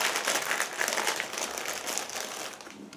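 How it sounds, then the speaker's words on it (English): Loud, continuous crinkling of a plastic bag being opened to reach the parts of a Miniart 1/35 T-44M tank model kit, close by and alone, easing off toward the end. "just give me a second to open the plastic bag"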